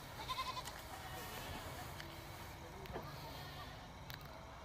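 Beetal buck goat bleating during vaccination on a semi-open village goat farm, with short, faint bleats mixed in with people talking nearby.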